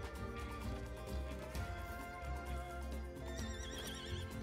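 A horse whinnies in the ranch video game The Ranch of Rivershine, sounding over a dense, steady bed of game music with no voices.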